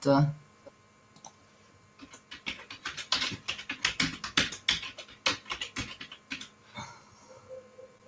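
Rapid keyboard typing as a website address is entered into a chat, a steady run of close, crisp key clicks with short pauses, and a brief voice is heard at the very start.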